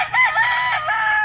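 A gamefowl rooster crows loudly and close at a breeding farm in the Philippines, one sustained wavering call that fills the whole moment, with no talking over it.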